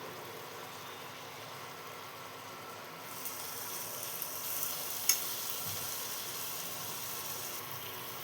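Carrot halwa being stirred with ghee in a pan gives a soft, steady sizzle and scraping that brightens partway through, with a single sharper clink near the middle and no talking.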